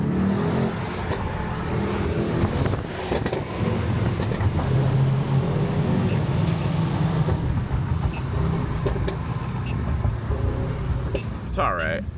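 A car accelerates hard on a pull, its engine roaring steadily and loudly for several seconds, with voices mixed in over the noise.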